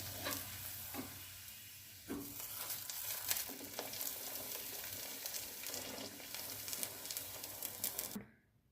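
Aloo puri frying in hot oil in a kadai, a steady crackling sizzle broken by sharper spatters and stirring scrapes, close and fairly loud, cutting off abruptly near the end.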